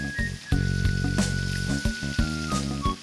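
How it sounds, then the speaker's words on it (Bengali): Koi fish (climbing perch) rubbed with spice powder and salt sizzles in hot oil, a dense, loud frying hiss with sustained tonal sounds layered over it and a few brief dips. "এবার কই মাছের ঠাই গরম তেলে।"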